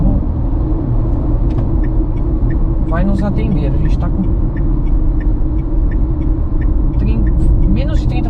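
Steady low road and motor drone from a Renault Kwid E-Tech electric car cruising on the Bandeirantes highway, with Portuguese speech over it throughout.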